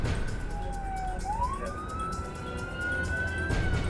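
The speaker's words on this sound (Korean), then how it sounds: "어둠이 내린 8번가 밤거리에 사이렌 소리가 유난히 크게 울린다." A police siren wails steadily over a low rumble of city traffic on an LA street at night, its pitch rising and sweeping in long glides, fairly close and loud.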